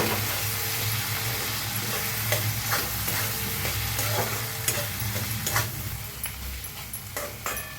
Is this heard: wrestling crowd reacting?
no